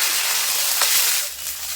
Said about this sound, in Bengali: সেটা একটু ভাজা ভাজা করে নেবো যাতে আদা রসুনের কাঁচা গন্ধটা চলে যায়